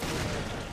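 Gunshot in the Raid Mode of the video game Resident Evil Revelations: a short, dense burst of game gunfire with a blast-like, noisy texture that lasts under a second at steady loudness, with no voices.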